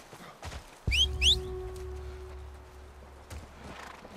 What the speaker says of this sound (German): Komm, zu den Pferden.